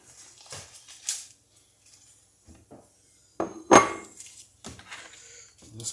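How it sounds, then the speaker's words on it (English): Butter is cut up for a shrimp bowl with a knife on a board, giving sparse clinks and taps separated by quiet gaps, with one sharper knock midway. "Let's cut up some butter here."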